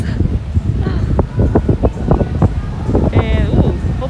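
Outdoor wind buffets a microphone at Disney Springs with a steady low rumble throughout, while a person talks over it.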